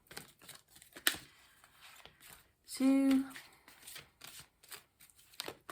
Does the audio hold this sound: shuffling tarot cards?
yes